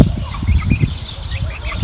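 Chickens and a rooster cluck and gobble close by at a village house, a busy continuous chorus of low fowl calls with no talk.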